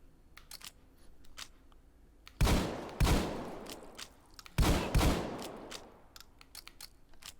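A Pancor Jackhammer automatic shotgun fired in the VR game Hot Dogs, Horseshoes & Hand Grenades: three loud, close blasts, each trailing off into a ringing decay, with faint clicks and handling noises between shots.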